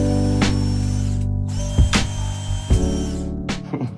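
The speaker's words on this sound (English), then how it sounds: "I've tried to drill them as straight as possible" A power drill whirs steadily, then bites in with several short, loud grinding bursts as it chews through a Birkenstock cork sole, close by.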